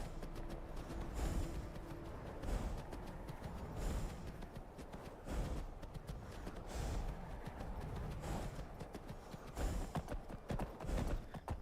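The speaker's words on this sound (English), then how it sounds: "Alright, fine. We're just going to run the horse." Horse hooves clip-clop in the Skyrim video game as a stolen horse runs, a steady, rhythmic stream of hoofbeats with faint snorts, continuing without pause.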